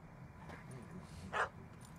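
A single short dog bark in The Witcher 3: Hearts of Stone, rising briefly and moderately loud over steady game ambience.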